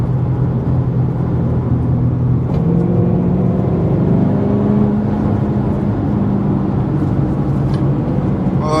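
A 2007 Ford Mustang GT V8 engine driving through curves, heard from inside the car as a loud, steady drone that rises and falls in pitch with shifting revs and throttle, with road and wind noise underneath and no talking.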